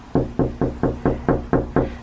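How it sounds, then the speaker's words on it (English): Seven soft, evenly spaced knocks on a door at home, each a dull thud close to the listener with no talk. "let's do a soft knock"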